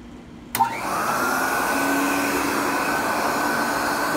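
An Airway Sanitizor Model 66 vacuum cleaner is switched on by its foot switch with a click and then spins up into a steady, loud, close motor whine and rushing airflow that holds for several seconds.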